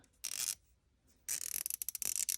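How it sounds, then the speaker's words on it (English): A used, older French-made Facom 1/4 inch ratchet clicks in two bursts: a short run of rapid clicks, a pause, then a longer, sharper series of close, fairly quiet ratcheting strokes. "1/4" ratchets for the 1/4" collection. Older French made version."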